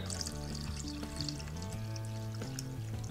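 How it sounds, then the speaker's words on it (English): A cup of water is poured into whisked brown gravy mix, a steady close liquid flow with faint clinks, while a low hum runs beneath and no one speaks. "We're gonna add 1 cup of water."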